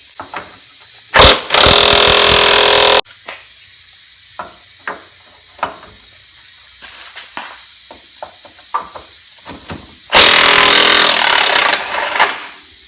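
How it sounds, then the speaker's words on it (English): A pneumatic impact wrench works a heated, smoking nut on a 1994 Ford Ranger, firing two loud hammering bursts of about two seconds each, with quiet clinks and clatter between them. "then we'll get the impact on it"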